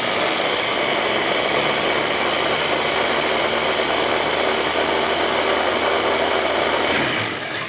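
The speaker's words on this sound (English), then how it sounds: "we're just going to give this a quick puree" A blender purees a thick raw brownie mixture in one steady, loud, close whir lasting several seconds before it winds down at the end, with no talking over it.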